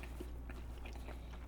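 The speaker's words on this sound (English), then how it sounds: "Hopefully you can hear the crunch." Faint crunching bites into crispy, paper-thin phyllo pastry filled with pineapple, a few quiet crackling chews heard close over a steady low hum, with no talking.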